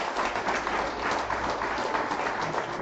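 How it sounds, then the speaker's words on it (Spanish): A church congregation applauding during a Catholic preacher's service, a dense and steady wash of clapping from many hands that carries on without a break throughout. "Dale un fuerte aplauso al Señor."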